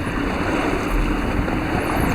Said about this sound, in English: Sail flapping a little bit there.